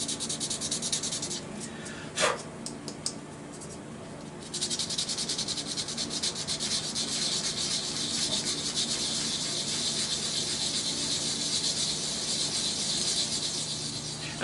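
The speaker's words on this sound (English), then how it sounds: "I'll sand this by hand up to 320" A small yew hollow form turns on a lathe while sandpaper is held against it by hand, giving a steady close hiss and rubbing that continues throughout with a couple of brief knocks.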